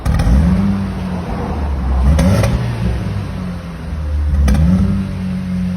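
A car with a modified sport exhaust, 60 mm downpipe and valve closed, revved three times in quick succession, each throttle blip rising and falling in a deep, muffled drone close by, no voices.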